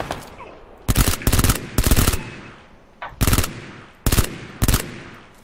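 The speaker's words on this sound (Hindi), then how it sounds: "सामने से गोली चल रही भाई" Rapid automatic-rifle bursts ring out in the mobile shooter PUBG Lite, six loud clipped volleys spaced about half a second to a second apart, with no talk.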